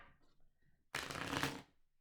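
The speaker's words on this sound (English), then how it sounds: "I'm going to pull a life oracle card for you." Oracle cards shuffled by hand during a tarot reading, a single brisk riffle of about three quarters of a second, close and soft, following a few faint handling sounds.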